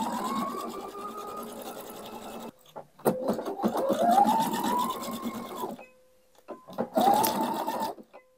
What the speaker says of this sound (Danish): Nu sidder jeg jo her og syr på en Pfaff Icon.